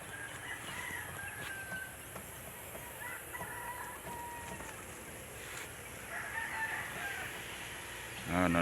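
Chickens cluck and a rooster crows faintly in the distance on a farm, thin and intermittent against steady outdoor ambience.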